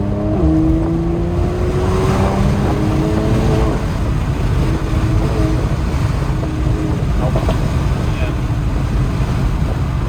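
A car engine pulls steadily in fourth gear, a loud, sustained drone with a rising tone that climbs and levels as the car accelerates, with road and wind noise underneath.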